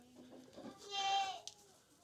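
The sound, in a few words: goat bleating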